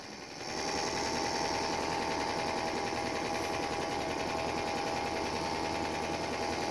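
A new Tohatsu 6hp outboard motor starts up on a Pelican Predator boat on a river, then holds a steady, loud, buzzing idle drone close by, with no talk over it.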